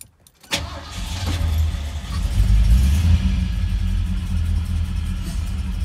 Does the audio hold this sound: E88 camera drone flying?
no